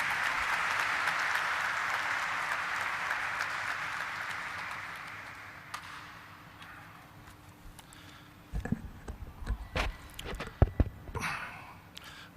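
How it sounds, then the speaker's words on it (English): Audience applause at a stock exchange listing ceremony for Popular Vehicles and Services Limited, steady at first then fading away, followed by scattered handling noises and footsteps in the room. "Can we have a huge round of applause for him?"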